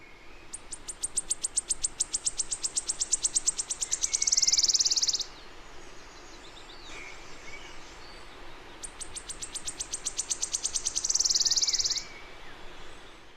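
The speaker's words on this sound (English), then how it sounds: "So let's start with the wood warbler." Wood warbler song recording: two accelerating trills of high, thin repeated notes, each speeding into a shimmering, sustained buzzing flourish, clear and fairly close against quiet forest background.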